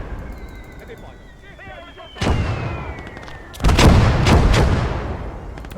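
Mortar fire in the World War battle game Blood Red Snow lands as two heavy, booming blasts a second or so apart, rumbling close and loud. Faint whistling and background battle noise come before them.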